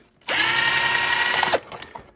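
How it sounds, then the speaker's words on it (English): Ratchet wrench working a 5/16 bolt on an ATV, one sustained buzzing burst lasting over a second, followed by a few faint clicks and handling noises close by. "you have to break it loose with a ratchet"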